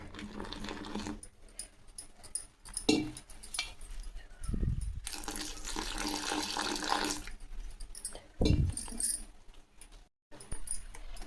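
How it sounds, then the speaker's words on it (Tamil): Water poured into rice flour and idli batter flour with salt for aloo bondas, then stirred: a short splashing pour, thick wet mixing and scraping in a bowl, a few bumps and clinks. "இப்போ தண்ணி கொஞ்சம் ஊற்றி நம்ம இதை கலக்கலாம்."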